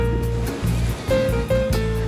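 Sea waves wash steadily along the shore of Hydra island in Greece, a continuous broad rush with gentle swells, joined by a low, steady hum.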